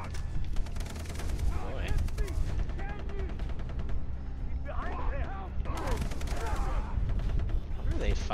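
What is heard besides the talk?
gunfire from fighting in Far Cry 3 video game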